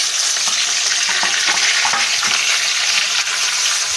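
Chopped onion dropped into hot tempering oil with whole cumin, dried chillies and bay leaf, a loud close sizzle that holds steady and dense with light stirring noises, no talk.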